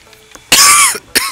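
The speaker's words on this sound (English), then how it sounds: "Oh, I need to stop coughing." A person coughs once in a short burst, fairly close and loud, followed by a second brief cough or throat clear after a short pause.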